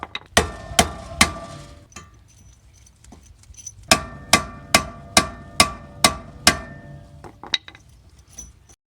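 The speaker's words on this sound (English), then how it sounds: "To remove the rotor flat screws, I use this manual impact with a hammer." Sharp metallic hammer blows on a manual impact driver loosening rotor screws on a 2005 Acura TSX ring out one after another, a quick set of three, a pause, then a steady run of about seven strikes, close up.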